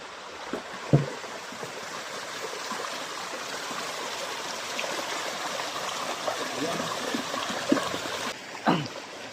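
Water flows steadily in a gentle stream, a constant soft rushing with occasional light knocks and splashes nearby.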